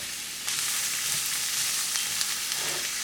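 Onions fry in a pan as a vegetable base for shrimp tacos: a brief quiet start, then a loud, close, continuous sizzle with small crackles.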